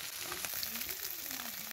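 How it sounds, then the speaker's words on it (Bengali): Mola carplet fish fry in plenty of oil in a kadai, giving a steady, dense sizzle with soft crackling and no talking. "ভালো করে এপিট ওপিট করে ভেজে নেব।"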